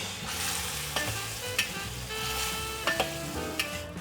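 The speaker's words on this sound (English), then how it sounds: "Now I'm just gonna kind of push the egg around in the sauce." Egg being pushed around in lobster sauce in a wok, a steady soft sizzle under scattered scrapes and clicks of the spatula against the metal, close and moderately loud, no talking.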